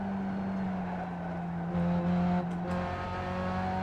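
A race car engine in a racing game holds a high, steady rev as the clutch slips, droning evenly with a brief surge near the end, no voices.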